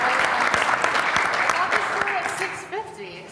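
Audience at a Boston augmented-reality panel event breaks into sustained applause for a speaker, a thick wash of many hands clapping close by, with a few voices and cheers rising toward the end.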